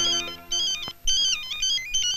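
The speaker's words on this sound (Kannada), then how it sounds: "Gauri Gauri, first time phone ಮಾಡಿದ್ದಾರೆ." A mobile phone ringtone in a movie scene plays a bright repeating electronic melody, loud and close, in several short phrases with brief gaps and no talk.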